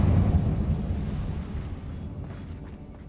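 An Incendio fire spell bursts in the video game Hogwarts Legacy, a single loud whooshing blast at the start that fades into a rumbling decay over a few seconds.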